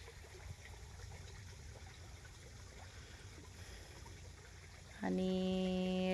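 Irrigation water flows steadily across a wheat field, a continuous trickling stream up close; near the end a loud steady tone with harmonics suddenly cuts in over the flow.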